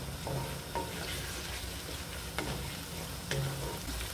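Onions fry with a frozen garlic and ginger cube in a pan, a steady moderate sizzle broken by a few sharp stirring scrapes and light clinks, with no voices.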